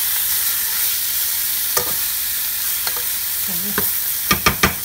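Ingredients sizzling in oil for Lao sour bamboo shoot soup with catfish, a loud continuous fry with several sharp utensil clacks against the pan toward the end and a brief word spoken.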